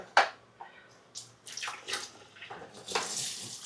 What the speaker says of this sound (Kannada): ಕೋಲ್ಡ್ ವಾಟರ್, ತಣ್ಣೀರು ಹಾಕಿ